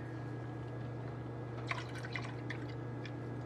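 Eggnog pours smoothly into a glass, a soft liquid trickle with a few light drips and splashes lasting about two seconds over a steady hum.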